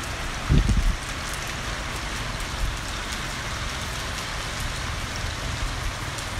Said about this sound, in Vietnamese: Ôi, mưa to quá rồi.